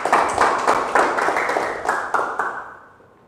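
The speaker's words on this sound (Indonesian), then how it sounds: "Oke, tepuk tangan buat Anda semuanya." An audience claps together at an evening business seminar, the applause close and lively at first, then thinning and fading out over the last second.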